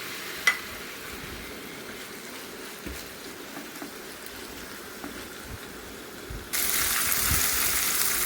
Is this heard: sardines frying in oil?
yes